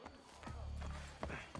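Horse hooves clop along in the video game Assassin's Creed 3, a few quiet, uneven hoofbeats under a low game background hum.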